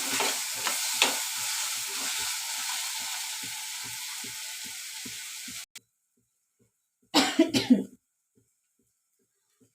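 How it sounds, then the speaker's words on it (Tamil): Crab masala with fennel and black pepper sautéing in a pan, with a loud sizzle and a rapid, regular series of stirring scrapes that suddenly stops, followed by silence and then a short burst of coughing. "அதுக்கப்புறம் மிளகு அதெல்லாம் சேர்த்து நம்ம நல்லா வதக்கிக்கணும்"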